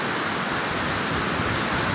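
Sea waves at Navapur beach make a loud, constant broadband roar of surf that fills the whole moment without a break.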